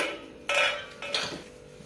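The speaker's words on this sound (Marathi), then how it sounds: "कढई आपण ठेवलेली आहे गॅसवर, त्यामध्ये टाकलेलं आहे तेल। टाकून घेऊयात मोहरी।" Two brief bursts of sizzling crackle as mustard seeds are dropped into hot oil in a wok, fairly quiet with no voices.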